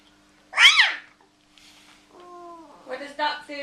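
A young child imitates a tiger with a sharp, high-pitched roar-like cry, followed by softer voiced sounds and babbling close to the microphone.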